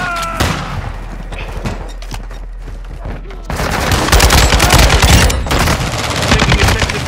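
AK-47 gunfire in a Call of Duty MW2 multiplayer match on the Shoothouse map: a few sharp shots, then loud, dense sustained automatic bursts filling the second half, with brief voice chatter.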